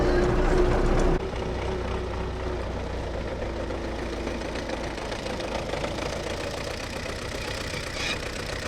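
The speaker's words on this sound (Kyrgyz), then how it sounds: "Пресс-подборщик деп аталат." A tractor-driven hay baler runs with a continuous knocking mechanical engine drone, louder for the first second and then steady, with faint voices in the background.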